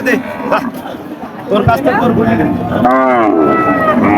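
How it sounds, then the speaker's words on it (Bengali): Cattle moo loudly nearby at a busy cattle market in Chaugachha, a few drawn-out calls from tethered cattle over a busy background of people talking and general market bustle. "এই যে গরুগুলো আপনারা দেখতে পাচ্ছেন সব বেঁধে রাখছে"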